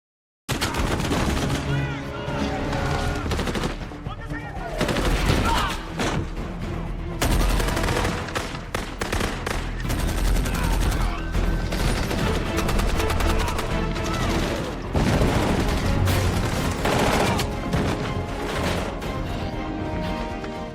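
Dense, continuous gunfire from a war film battle, rapid bursts and volleys of rifle and machine-gun shots with crashes, loud and near throughout, with a narrator speaking over it.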